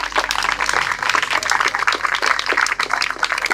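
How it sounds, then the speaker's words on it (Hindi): Audience applause closes a meditation session, a dense, steady patter of many hands clapping throughout. "एक बार जोरदार तालियों के साथ इस सेशन को एंड करेंगे"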